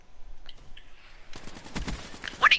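Gunfire from a Cannon 44 fully kitted with attachments in Call of Duty Black Ops III, a quiet opening that builds into a dense burst of crackling shots and sharp impacts over the last second and a half.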